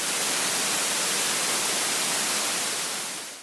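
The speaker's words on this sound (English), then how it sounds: "You've likely heard of white noise, which sounds like a hissing radio" Steady broadband hiss of white noise, like a detuned radio, loud and unchanging throughout before easing slightly at the very end, with no voices.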